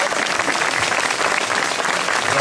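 A concert audience at an outdoor waterside event claps for a woman being honoured, loud, dense applause from many hands, sustained and close throughout.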